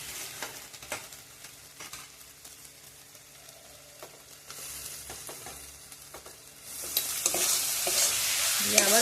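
Tomato and capsicum frying with onion and garlic in a pan for a home chicken curry, with quiet sizzling broken by scraping stirs that swell into a louder, brighter hiss toward the end.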